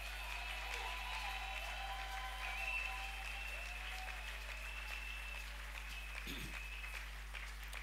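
A church congregation applauding during a service, soft and fairly distant, an even patter of many hands sustained for several seconds.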